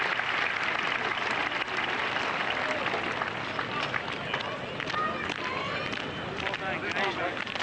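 A golf gallery at the 17th hole of the 1990 Open Championship applauds Payne Stewart. The clapping is a steady, dense wash that holds evenly throughout, heard from a distance against outdoor air.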